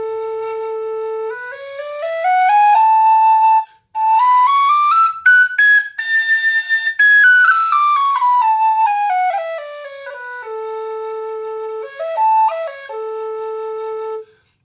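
An alto A tin whistle climbs note by note up into its third octave and back down, with clear, bright, high tones and short breaths between phrases, played solo and close.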